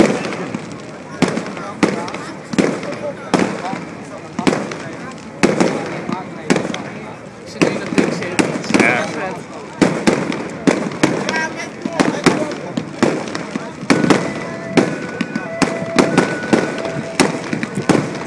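A fireworks show at the 2009 Zaandam fair fills the air with continuous cracks and booming bursts in irregular volleys, while a crowd chatters throughout.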